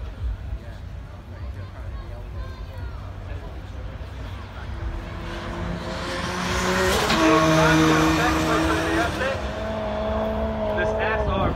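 A drift car screams across the line at Brands Hatch during a drifting event, engine tone rising to a loud peak with tire squeal as it passes near, while a commentator talks over it.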